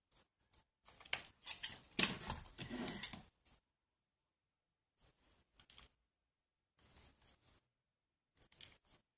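Decorative scissors with a torn-edge blade snip through paper in a quick burst of crisp crunching cuts, then a pause and a few lighter, scattered snips, close and quiet with no talking.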